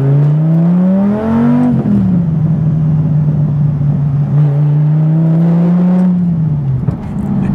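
A Dodge Viper GTS engine pulls hard under acceleration, its deep drone rising, dipping at a gear change, then holding a loud steady pitch before easing off; close inside the car, no talking.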